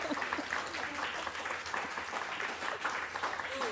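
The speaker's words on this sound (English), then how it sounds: "we can encourage you guys to clap." Audience applause at a literary book event with two authors, a steady wash of clapping from a seated crowd, moderately distant and continuous throughout with a faint voice underneath.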